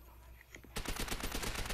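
Rapid automatic MP40 fire in Call of Duty: World at War team deathmatch, a quick rattling burst of evenly spaced shots that starts abruptly after a brief quieter moment.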